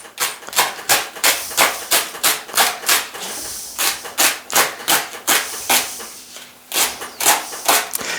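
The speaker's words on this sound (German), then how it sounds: "Und daraus schneide ich dann ganz feine Streifen." Knife cutting washed, halved leek into very fine strips on a board: a steady run of quick, crisp, close chops in a fast regular rhythm, with a brief pause near the middle and no talking.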